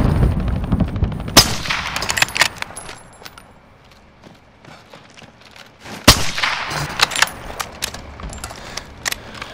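Gunfire in Call of Duty: Warzone: sharp bursts and single shots crack out loudly near the start and again around the middle, with scattered quieter pops and metallic clinks in between.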